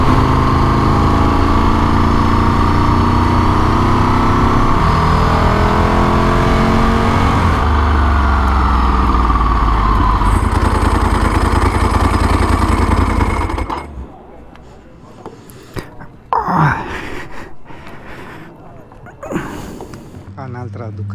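Loud Ducati motorcycle engine revving and droning close by, pitch sweeping as it accelerates, then dropping away abruptly to quieter background with brief passing bursts; a voice speaks over it.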